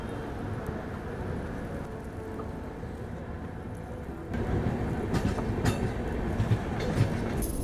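The Khajuraho Express passenger train from Udaipur runs on the rails toward Agra Cantt in India. A continuous rumble and rattle of the carriages grows louder halfway through, with faint clacks from the track.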